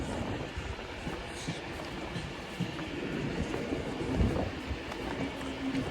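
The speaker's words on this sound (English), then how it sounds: "here's mine pulling in. The 1154 Avanti West Coast service to Manchester Piccadilly." An Avanti West Coast electric train pulls into a station, a faint low rumble and hum with soft rail clicks under ambient platform noise, quiet and steady throughout.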